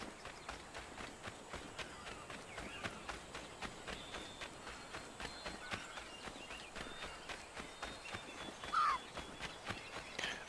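Quiet, evenly spaced hoofbeats of a horse running in Assassin's Creed III Remastered, a steady rhythmic patter under faint ambient sound with a brief louder moment near the end.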